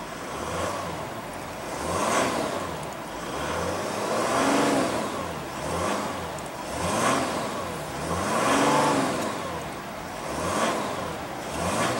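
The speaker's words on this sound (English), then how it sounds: "let's go ahead and rev up this monster and see what kind of soundtrack she makes." A 2016 Mercedes E-Class engine revs repeatedly in a steady rhythm, with about six rising and falling swells of engine tone heard up close and alone, with no talking.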